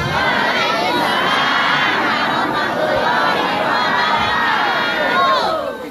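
A large crowd shouting a sustained cheer in reply to a spoken greeting, loud, dense and continuous throughout, with children's voices mixed into the roar.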